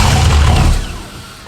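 A Ford F100 truck with a turbocharged LS1 V8 fires up with a loud, deep rumbling roar that holds briefly, then quickly drops away to a lower, quieter idle.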